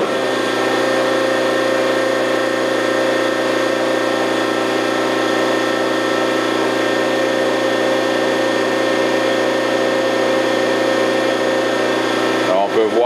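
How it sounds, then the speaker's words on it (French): A hydraulic pump runs to pressurize a damaged cylinder for an inspection at 500 PSI, giving a loud, steady mechanical drone with a constant hum that barely changes, then a brief disturbance at the very end. "je démarre la pompe"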